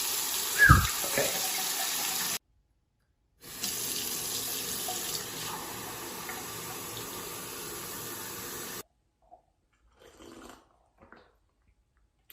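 Water running from a kitchen faucet through a kinetic reactor filter, a steady rushing stream that stops, restarts for several seconds, then cuts off, followed by a few faint drips and clinks.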